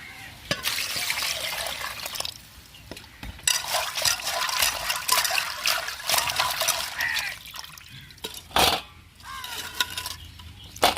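Crab is washed by hand under running water, with trickling and splashing close by and short clattering handling sounds, steady at first and then broken into bursts.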